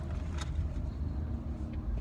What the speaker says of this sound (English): I'm dealing with like horrible morning traffic right now